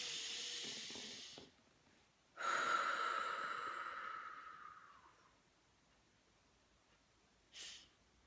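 A slow, audible deep breath taken during a guided self-help tapping exercise: a drawn-out hissing inhale or exhale lasting a few seconds, preceded by a softer breath and followed by quiet, with a short puff at the end.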